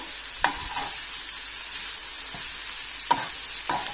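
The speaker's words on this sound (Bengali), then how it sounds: "পরে এটাকে আমি জাস্ট নেড়ে চেড়ে একটু নেড়ে দিচ্ছি" Leafy greens frying and hissing in a pan, turned over with a utensil that knocks and scrapes a few times against a steady sizzle.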